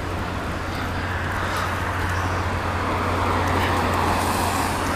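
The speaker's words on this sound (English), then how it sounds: "Traffic." Steady road traffic rumbles past along the Kobe waterfront while cycling, a continuous close roar of cars and larger vehicles that grows slightly louder toward the end.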